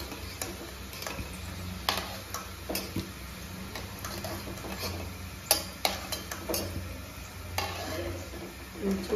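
Small whole parboiled potatoes browning in oil for homemade chicken biryani, a quiet ongoing sizzle broken by repeated clicks and taps of a spatula against the pan, no speech.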